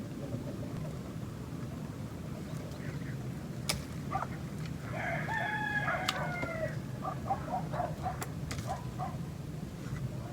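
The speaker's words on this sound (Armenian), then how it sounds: "Որ գնում եմ, հետևիցս գալիս են իմ հավերը" Backyard chickens following a person around, with a rooster crowing in bursts through the middle and brief clucks and calls over a steady outdoor rumble, fairly close.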